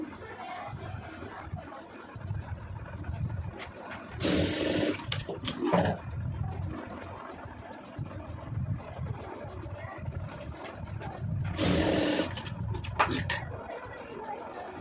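Domestic sewing machine stitching a quarter-inch seam on a blouse, running in steady whirring stretches with louder bursts, fairly close and without speech over it.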